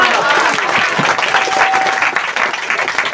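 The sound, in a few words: audience applause in church service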